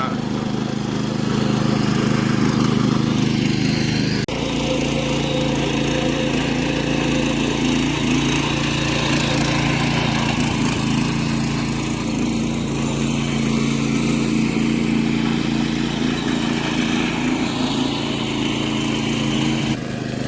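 A tractor engine running in a muddy paddy field during monsoon planting, a steady, loud mechanical drone that continues throughout with slight rises in pitch, with no talk over it.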